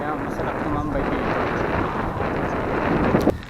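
Steady wind at the seaside in Rawis, Santo Tomas, La Union buffets the microphone with a continuous broadband roar, with a faint voice partly under it.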